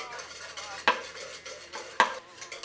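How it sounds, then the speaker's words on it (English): A spoon stirs a thick garlicky bean bread mixture, a soft continuous scraping and squelching broken by two sharp clinks against the bowl, close and fairly quiet. "you have to just keep stirring it and stirring it and stirring it until it's all the way smooth and thick"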